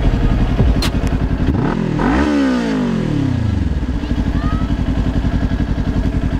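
A motorcycle rides along a street, its engine loud and close with a rising then falling pitch as it passes, steady rumble continuing throughout.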